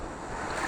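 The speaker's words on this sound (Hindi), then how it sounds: "ये आई बड़ी लहर।" A large ocean wave rolls in and crashes near an island shore, a steady loud wash of surf and rushing water with wind noise, swelling slightly toward the end.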